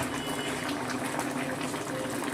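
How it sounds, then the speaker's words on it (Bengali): Fish roe fritter curry with potatoes bubbling steadily after simmering covered, a dense, continuous close boil with no voices. "10 মিনিট মতো ঢাকা দিয়ে বড়াটা ঝোলের সাথে ভালো করে ফুটিয়ে নিয়েছি।"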